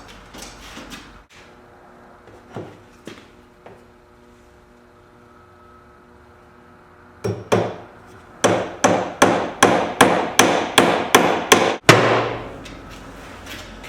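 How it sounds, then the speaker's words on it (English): A hammer drives a nail into wood: a few scattered taps, a pause, then a quick run of about ten sharp, even strikes close by, ending with one heavier blow. "I'm going to put this nail into this board using a hammer."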